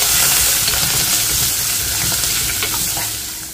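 Ten to twelve small onions and six or seven garlic cloves sauté in a single pot for vatha kuzhambu, giving a loud, continuous close sizzle and crackle of hot oil that fades slightly toward the end.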